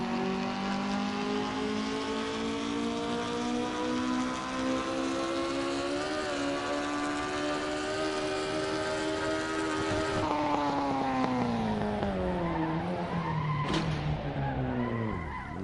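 A racing car engine in the Assetto Corsa video game drones steadily and shifts in pitch as it revs and eases off, with tire skidding running underneath throughout.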